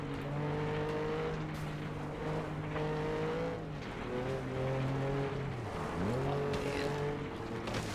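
Car engine in the racing video game FlatOut 2, a steady droning whine that rises and falls with gear shifts and revs, with brief tire squeal, loud and continuous with no talk.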